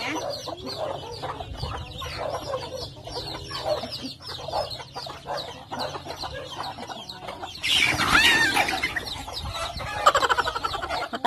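Chickens on a provincial farm clucking and squawking close by, with a rooster crowing; the birds grow louder and more agitated partway through, with scattered flapping and rustling.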